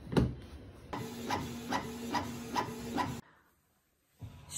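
A home printer runs through a page, a rhythmic series of whirring, clicking feed pulses for about three seconds, then stops into near silence before a faint noise returns at the end.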